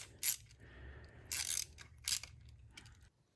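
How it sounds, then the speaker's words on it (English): Quick metallic ratcheting bursts from a T30 Torx driver loosening a bolt during a car spark plug change, three or four short clicking runs separated by quiet pauses, close and fairly faint. "we're gonna remove this bolt right here with the T30"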